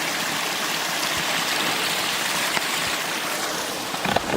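A small waterfall stream beside the Jenkinson Lake hiking trail rushes in a steady, close, broadband wash of flowing water, continuous throughout with no talking.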